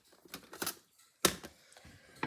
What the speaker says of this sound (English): I grabbed the wrong scissors to cut that.